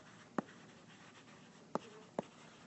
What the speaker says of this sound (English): So let me write that down.